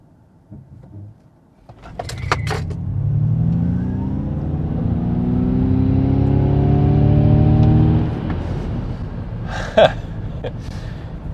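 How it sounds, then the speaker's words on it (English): A Ford Mustang Mach-E GT electric car launches hard from a standstill on a wet road, its motor whine rising steadily in pitch for several seconds before cutting off, with a few clicks and knocks before and after. "Let's see what the Mustang Mach-E GT does"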